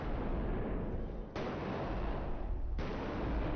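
Gunfire booms in a corridor in a video game, with dense, sustained blasts and reverberating echo that fill the space.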